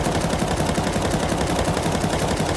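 Rapid automatic gunfire from the video game Counter-Strike 2 rattles in a continuous, tightly spaced stream of shots, loud and sustained with no pauses.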